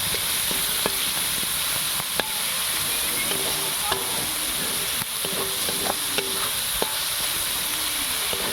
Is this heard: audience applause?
no